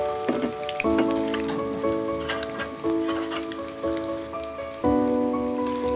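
Zucchini patties shallow-fry in oil in a pan, a dense close crackling sizzle that runs throughout. A few louder spits and pops stand out, and sustained tonal humming sits beneath the frying.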